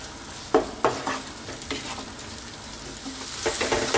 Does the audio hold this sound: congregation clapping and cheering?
no